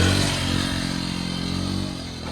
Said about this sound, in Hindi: लॉन्ग व्हीली थोड़ी चला के कैसे करनी है फर्स्ट गियर पे ही